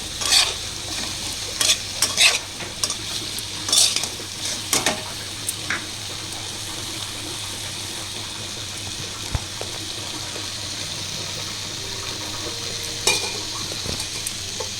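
Eggplant and potato with salt and turmeric are stir-fried in a pan: a few loud spatula scrapes and tosses come in bursts early on, then a steady, even sizzle carries on alone.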